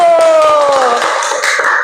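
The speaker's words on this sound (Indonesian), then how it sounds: "Oke, tepuk tangan dulu." A classroom of students claps hands together, a string of sharp close claps in a quick steady rhythm while voices chant or talk over them.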